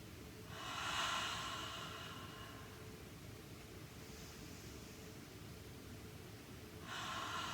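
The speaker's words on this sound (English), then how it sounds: "We'll take a deep inhale through the nose, and then exhale, just sigh it out through the mouth." Deep breaths drawn in through the nose and sighed out through the mouth during a seated chair yoga session: two soft, airy breath sounds a few seconds apart, close and quiet over a faint steady background, with no talking.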